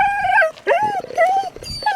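Dog barking back at echoes in a Mojave desert canyon, a few short high yelps and howl-like calls in quick succession, loud and close.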